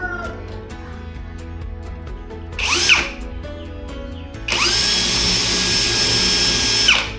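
A power drill, switched to hammer mode, whirs in two bursts, a short one and then a longer, steady high whine, with a cat meowing in between and underneath, during a kitchen fan install.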